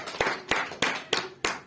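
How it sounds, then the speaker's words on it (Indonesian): A church congregation claps along in rhythm, five sharp, evenly spaced group claps roughly a third of a second apart, close and fairly loud with no talking. "Kasih tepuk tangan untuk Tuhan."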